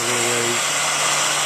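A heat tool blows hot air steadily to soften a white Veranda vinyl fence bracket, a loud continuous broadband rush with a motor hum that shifts pitch partway through.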